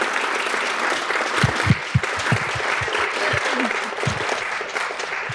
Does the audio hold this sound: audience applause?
yes